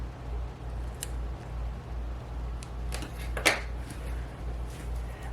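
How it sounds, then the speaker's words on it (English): Scissors snipping planner paper at a desk, a few light, crisp cuts scattered over several seconds, close by over a steady low hum. "I can go ahead and pull a few of these scissors, cut this down just a touch"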